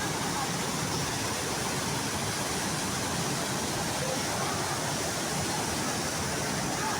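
Constant broadband rush of falling water at Majayjay Falls, steady and unbroken, heard close up.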